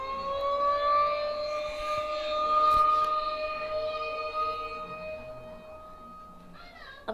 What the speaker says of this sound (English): I'm glad the siren stops.